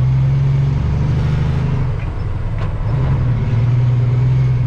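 A heavy haul truck pulls a heavy load out of the bush, its diesel engine a loud, close, steady low rumble that sags briefly mid-way and then climbs again in pitch as it strains.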